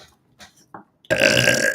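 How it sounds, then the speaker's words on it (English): A single loud, drawn-out burp erupts after a few soft, scattered noises, close to the microphone and with no talking over it. "Spirit makes me burp for anyone who's new here."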